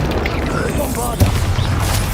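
Bombarda spell explosion in the Hogwarts Legacy video game: a single deep boom lands mid-way through a dense mix of combat effects and clatter, with a voice shouting over the action.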